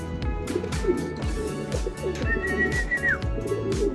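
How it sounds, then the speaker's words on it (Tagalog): Racing pigeons in a loft coo in steady, repeated low rolling calls, several birds overlapping close by, with a brief higher whistle-like sound partway through. "nag-iingay na naman yung mga ibon"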